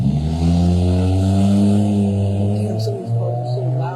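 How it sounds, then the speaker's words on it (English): A loud car roars past close by near a flea market, its engine note rising and falling over a few seconds. "some of these cars are so loud"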